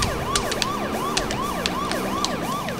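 Emergency vehicle siren in the racing game Burnout 2: Point of Impact, a rapid repeating wail over engine noise with sharp clicks, loud and continuous throughout.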